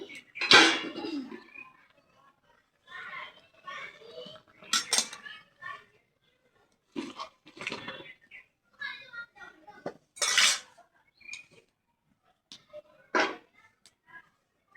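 A pot of boiled potatoes is handled and lifted off the stove, with scattered clanks of metal pot and utensils, clinks and scrapes in separate bursts between quiet gaps.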